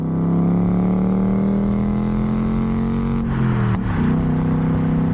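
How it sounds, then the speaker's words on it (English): A 2024 Ford Mustang GT convertible's V8 engine revs loudly and close up, a deep steady roar that rises gently in pitch and then drops briefly near the end, with no talking. "The lovely velvety sound of a V8."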